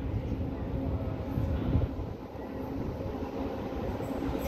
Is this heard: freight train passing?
yes